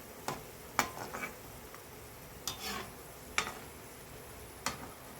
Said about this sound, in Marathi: खोबऱ्याचे काप पण लाल होईपर्यंत तळून घ्यायचे